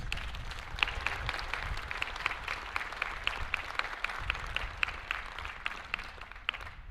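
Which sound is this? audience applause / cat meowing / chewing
audience applause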